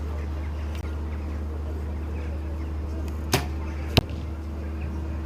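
Two sharp thuds of arrows striking a target, the second a bit louder, over a steady low hum of background noise.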